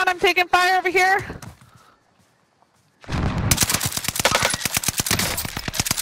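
Rapid bursts of automatic gunfire in a battle-royale style video game, a fast steady volley of close, sharp shots following a voice and a brief quiet gap.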